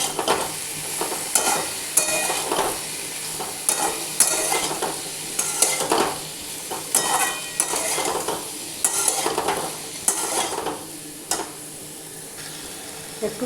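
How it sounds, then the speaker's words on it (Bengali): Spice paste of cumin, coriander and turmeric sizzles in a pan with a splash of water while a spoon stirs it, scraping in repeated bursts at close range. "একটু জল দিয়ে মশলাটাকে ভালো করে ভাজবো"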